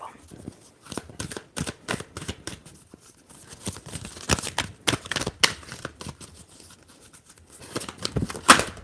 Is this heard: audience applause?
no